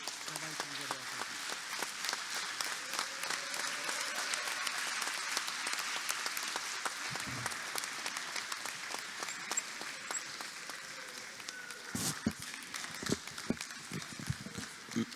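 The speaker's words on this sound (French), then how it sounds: "Et vous restez assis et vous applaudissez." A seated audience at the MEDays 2025 conference on Africa-Atlantic cooperation applauds for about fifteen seconds, a fairly faint, even patter of many hands with a few sharper claps near the end.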